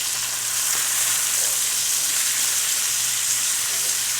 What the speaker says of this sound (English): We're going to flip each one now.